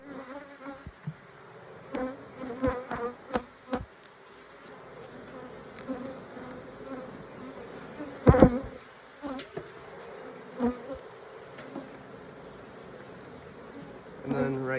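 Honey bees buzz steadily around an opened hive box fitted with new Amish frames, a close, continuous drone broken by occasional knocks and clunks as frames are handled.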